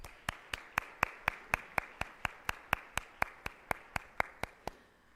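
Audience clapping at a community forum on Black hair and identity in Columbus, heard as a steady train of about twenty sharp, evenly timed claps, fairly faint and with no talk over them.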